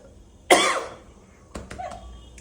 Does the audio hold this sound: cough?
yes